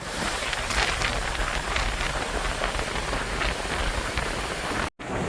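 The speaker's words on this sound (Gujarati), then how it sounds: "વરસાદ આવે છે અને તમે જોઈ શકો છો નજારો" Rain falls steadily at a dam, a dense, loud, continuous hiss close to the microphone, with no voices and a brief cut near the end.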